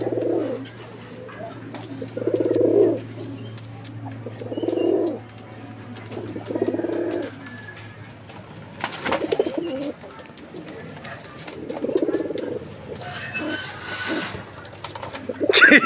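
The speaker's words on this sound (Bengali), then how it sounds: "দেখেন কবুতর যেরকম মাশাআল্লাহ একদম ভরপুর ডাকের" Domestic pigeons, a show pair with full throats, give repeated low cooing phrases in rhythmic bursts, fairly close, over a steady background hum with a few brief rustles.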